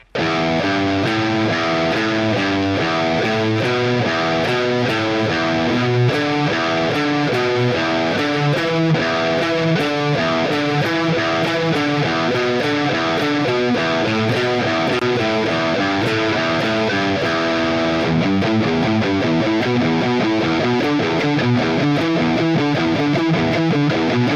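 A distorted electric guitar plays fast continuous riffs in repeating three-note groups, loud and dense throughout with no pauses or voices.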